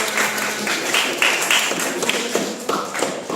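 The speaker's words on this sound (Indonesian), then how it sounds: "Tepuk tangan lagi." Schoolchildren in a junior high classroom clap together, a dense burst of quick, sharp hand claps that continues steadily for a few seconds before thinning out.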